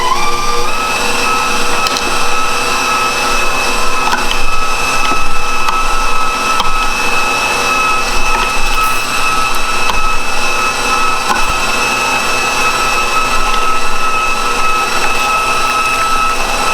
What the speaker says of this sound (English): That's the KitchenAid grinder attachment for the KitchenAid stand mixer.